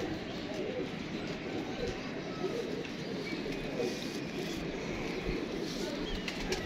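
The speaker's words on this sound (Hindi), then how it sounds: "ये देख जरा, ये कबूतर है" Pigeons coo softly against a steady hum of background noise, low throaty calls repeating now and then.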